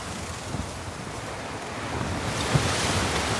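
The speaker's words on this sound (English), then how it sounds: "It's getting pretty windy out there." Steady roaring wind buffets the microphone at a tent and tarp campsite, a broad rushing noise with gusts swelling slightly toward the end, no voices.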